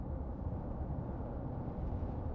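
Sonified primordial sound waves of the early universe, pitched up to audible range: a low, steady rumbling hiss, like a deep roar of noise, fairly quiet and unchanging, without distinct events or voices.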